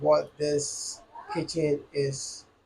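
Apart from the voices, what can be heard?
No everyday noises stand out.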